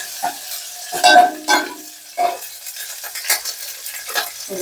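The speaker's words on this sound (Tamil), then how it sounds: "சொதிக்கு வந்து பட்டை, கிராம்பு, கொஞ்சம் சோம்பு போட்டு போட்டு தாளிச்சாதான் நல்லா இருக்கும்." Cinnamon, cloves and fennel seeds sizzling as they temper in a hot pan for sothi, crackling in short bursts, with stirring and scrapes of a spoon against the pan close by.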